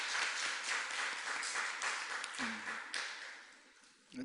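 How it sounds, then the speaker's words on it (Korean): A church congregation claps in praise during a Sunday worship service, a steady wash of applause that holds for several seconds and then thins out, with a faint tone and a brief murmur of voice near the end. "하나님께 영광의 박수 드리겠습니다."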